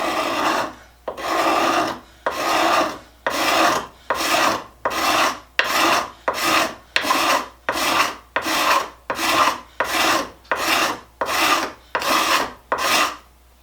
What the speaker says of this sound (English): And this handheld scraper goes right through it, no problem.